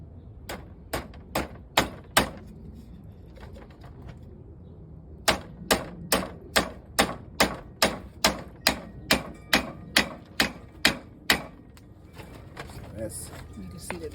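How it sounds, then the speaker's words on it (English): A hammer drives nails into a wooden beehive frame in loud, close, evenly spaced strikes, a short burst of blows, a pause, then a long steady run of about fifteen more hits. "let me show you guys how he is nailing this together here"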